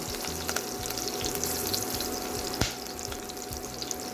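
Green chilies frying in hot oil for sabudana khichdi, a steady close sizzle with faint crackles and one brief knock of a utensil.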